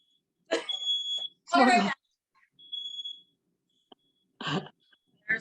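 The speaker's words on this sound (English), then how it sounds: "There's that smoke alarm." A high-pitched smoke alarm chirps in short beeps, set off by steam and smoke from cooking chicken skins, between bursts of nearby talking and a cough.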